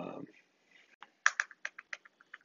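A brief voice gives way to close, crisp keystrokes on a computer keyboard, about a dozen irregular clicks tapped in a quick light rhythm.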